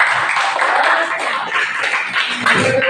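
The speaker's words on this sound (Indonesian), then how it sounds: "Tepuk tangan buat kita semua" Classroom applause from students at the end of a lesson, a dense continuous patter of many hands clapping fairly close for the whole stretch, with no talking over it.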